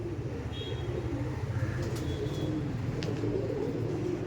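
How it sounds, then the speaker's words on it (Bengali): Several Andhra pigeons coo in low, rolling, continuous murmurs, with a few faint higher chirps over a steady background, nearby and without talk. "প্রশান্ত কেমন লাগছে পায়রাগুলো"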